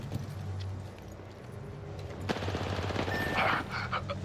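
Rapid bursts of automatic gunfire crackle in a duo battle-royale video game, sharp clustered shots rising in intensity toward the end over a background of in-game effects.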